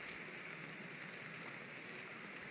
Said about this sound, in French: voilà la pluie qui frappe au carreau de la chambre